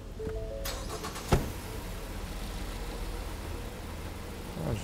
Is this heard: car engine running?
yes